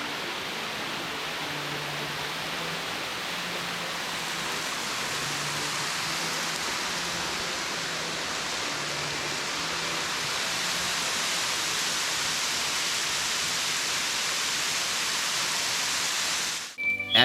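Water pours over a Massachusetts waterfall in the Berkshires in a steady, loud, broadband rush that holds evenly throughout, with no voices.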